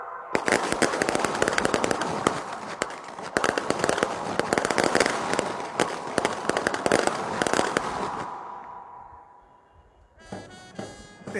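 A ceremonial rifle volley is fired at an Independence Day event in a stadium in Chhatarpur, heard as loud, dense overlapping bangs and crackles for about eight seconds. The shots then die away, and a brief rattling noise follows.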